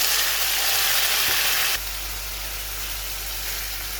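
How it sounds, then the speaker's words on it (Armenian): Asparagus dropped into hot vegetable oil in a pan makes a strong, broad sizzle that settles into a quieter, steady frying hiss partway through, with a low hum underneath. "բուսայուղը տաքացավ և կսկամիսը տեղափոխում ենք թավայի մեջ"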